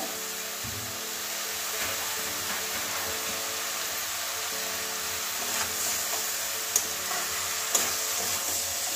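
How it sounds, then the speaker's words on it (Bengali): Soybean, cabbage and potato curry stirred and sautéed in a pan, a steady soft sizzle with scraping stirs and a couple of sharp clicks near the end, with no talking. "ভালো করে কষিয়ে নেব 2-1 মিনিট।"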